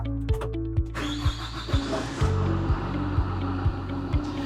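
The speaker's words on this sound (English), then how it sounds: "crank the truck." A Hydrema 912 dump truck engine starts, with low, regular thumping pulses about twice a second running under a rough, close engine rumble.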